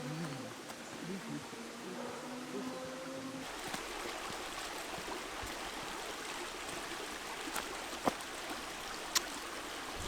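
Water flows in a stream near the Pwll-y-Wrach waterfalls with a soft, continuous rushing hiss. It stays faint and even, with a few small ticks and knocks over it.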